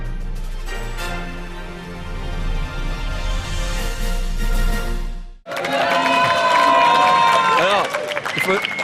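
Crowd applause and cheering erupts at a large gaming convention, a loud dense wash of clapping and shouting that swells and holds after a stretch of music and chatter.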